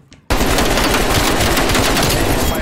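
An AK47 hip-fired in the Black Ops Cold War video game lets out a loud, close, sustained full-auto burst that starts abruptly after a brief quiet moment and rattles on unbroken to the end.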